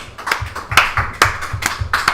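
Hand claps at a religious feast-day gathering, a handful of sharp, evenly spaced claps about twice a second over a soft low rhythmic thump, close and fairly loud.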